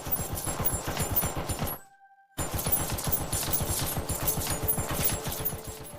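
Rapid bursts of gunfire fill an open-world fan-made game, firing loud and steady in quick repeated shots, broken by a brief near-silent gap before the shooting resumes just as dense.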